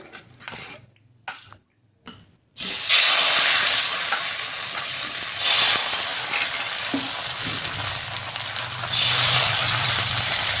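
A ladle stirs a milk and date-palm jaggery mixture in a hot pan. A few scattered clinks at the start give way to a continuous close sizzle with scraping strokes, and no one speaks.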